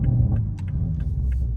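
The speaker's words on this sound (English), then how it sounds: "Oh gosh, those pops." Toyota Supra exhaust crackling with several sharp pops during a gear shift, heard over a steady low engine rumble from inside the car.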